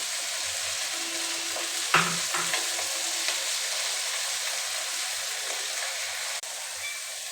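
Potato and onion fry and get stirred in a pan, a steady broadband sizzle running throughout. A brief clatter of the stirring utensil comes near the two-second mark, and no one speaks.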